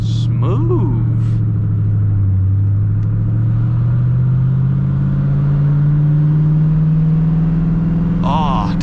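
A 2007 Ford Mustang GT V8 pulls away on backroads in second gear, its engine note rising steadily in a loud, close interior drone as it accelerates, with brief voices talking at the start and end.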